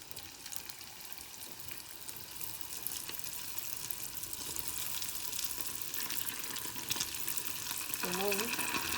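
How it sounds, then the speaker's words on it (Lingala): Samosas fry in a pan of hot oil, a continuous crackling sizzle that grows slightly louder over several seconds, with a faint bubbling burst near the end. "tozali kotia mafuta na biso échauffé nde tomoni toke kotia yango na kati ya mafuta"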